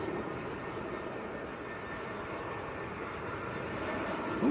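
A Lufthansa airliner rumbles at Manchester airport, a steady, distant low roar of jet engines that holds even throughout, with no talk.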